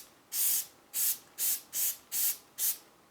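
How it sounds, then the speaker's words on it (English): Adhesive spray goes onto fabric for machine embroidery on a Brother SE600: six short, even hissing spray bursts in a steady rhythm, close and fairly loud, with brief pauses between them. "I'm going to spray on here, spray on here"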